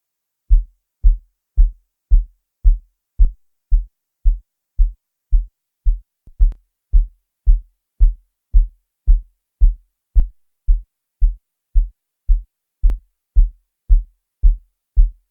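A steady, punchy amapiano kick drum thumps about twice a second, deep and loud, with faint lighter percussion ticks scattered on top and no voices.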